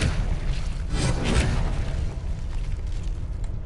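Expelliarmus spell cast in the Hogwarts Legacy video game, a deep rumbling burst with a swelling whoosh over constant dense game noise and low booms.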